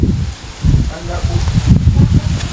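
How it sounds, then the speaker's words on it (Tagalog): Strong gusting wind buffets the microphone with low rumbling roars, and leaves of banana plants and crops rustle; a voice speaks faintly underneath. "Grabe, ang lakas ng hangin dito, oh."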